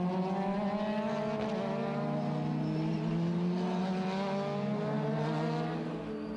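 Race cars at the Jarama circuit, including Ligier JS49 and Juno prototypes, with engines screaming at high revs in a loud sustained whine that shifts pitch as cars pass, steady throughout.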